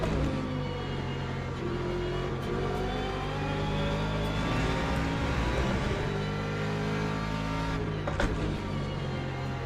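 LMP2 prototype race cars in the Le Mans Ultimate racing sim, engines droning loudly and steadily as several cars sweep past in succession.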